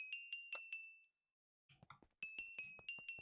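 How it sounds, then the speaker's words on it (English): Minecraft bell rung repeatedly in quick bright metallic dings, a run of about five strikes, a pause, then another rapid burst, with a brief patch of game noise between. "I see you ringing that bell"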